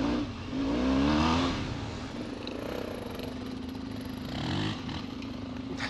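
A trail motorcycle on a muddy off-road path, fitted with a new Mitas C02 rear tyre, revs hard in loud rising surges, the engine roar swelling close by, easing, then climbing again.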